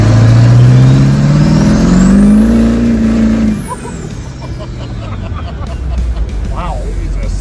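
Turbo diesel engine revving up loudly and close by, its drone climbing with a rising turbo whistle, then dropping back to a rough, rumbling idle with clattering noise over several seconds.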